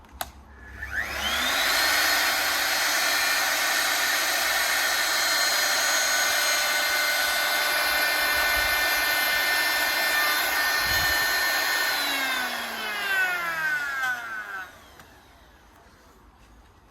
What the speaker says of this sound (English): Once you've done that, then you start the router up